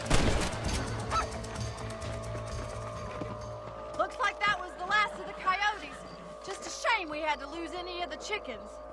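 Chickens in the Red Dead Redemption game give short, harsh squawking calls in uneven bursts in the second half, after a noisy stretch. A voice talks over them.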